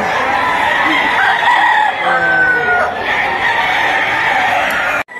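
A bull stag rooster crows loudly and close, one drawn-out call with clucking around it at a busy poultry sale.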